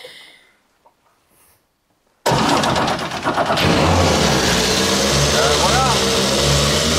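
A rally car engine fires up abruptly after a near-silent pause once the start button is pressed, then settles into a loud, rough, close idle; voices talk around it.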